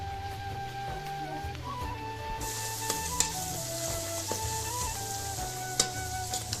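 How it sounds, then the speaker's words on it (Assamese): Ginger and garlic sizzle in hot oil while local chicken curry is cooked, a steady close frying hiss with occasional light clinks of a stirring utensil against the pan. "ভাজি দিলে আদা আৰু নহৰু"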